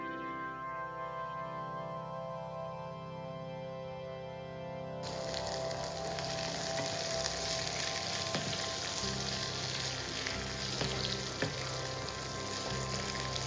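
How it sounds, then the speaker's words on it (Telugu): Cut ivy gourd pieces drop into hot oil in a pan, and a quiet tone gives way to a sudden, sustained loud frying sizzle that continues with light crackles. "ఇవి కొంచెం వేగిన తర్వాత మనం ఆల్రెడీ కట్ చేసి పెట్టుకున్న దొండకాయ ముక్కల్ని ఇందులో వేసేసుకుందాం"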